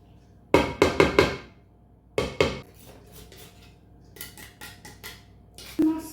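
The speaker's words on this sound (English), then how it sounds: "I'd like to be able to get a bit more zest off this lemon." Lemon zest scraped off on a grater while making Christmas mincemeat: a few close, dry rasping strokes in quick bursts, then lighter scrapes after a pause, with no talking.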